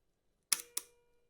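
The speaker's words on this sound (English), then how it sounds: "So if it's possible to cock the shutter, hopefully it is." Seiko leaf shutter on a Fuji GW690 III medium-format camera gives two sharp mechanical clicks about a quarter second apart, close and crisp with brief decay, in an otherwise quiet room.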